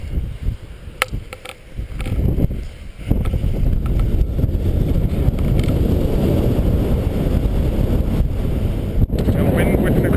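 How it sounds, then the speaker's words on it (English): Wind whipping across a reservoir in the Brecon Beacons, a steady loud rumble of gusts hitting the microphone that builds after the first few seconds and keeps going to the end. "Got wind whipping across the reservoir."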